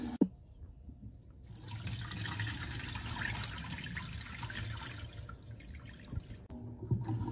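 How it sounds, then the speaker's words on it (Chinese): Rice rinsed in water in a home kitchen for seafood congee, a steady soft swishing and splashing that runs for several seconds with a few small knocks, close and fairly quiet. "把米淘洗一次就可以了。"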